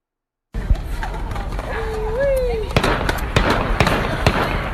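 Several sharp gunshot-like cracks from police less-lethal rounds fired at a fleeing man, a loose burst of pops after a brief quiet lead-in, heard over a steady noisy background with faint voices.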